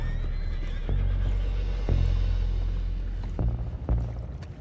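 A horse neighs and whinnies in the video game Red Dead Redemption 2, against a steady rumbling background, with a few hoof-like knocks scattered through.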